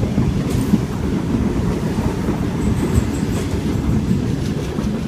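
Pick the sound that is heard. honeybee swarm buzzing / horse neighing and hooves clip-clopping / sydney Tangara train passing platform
sydney Tangara train passing platform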